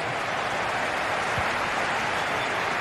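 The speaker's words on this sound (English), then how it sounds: "Please give a round of applause." Crowd applause from a FIFA 20 football video game, a dense, even wash of clapping that holds steady throughout.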